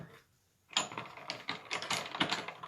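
A die cutting machine cranks a card through with a frame die, giving a close run of rapid ratcheting clicks and grinding after a brief quiet start, with no talk.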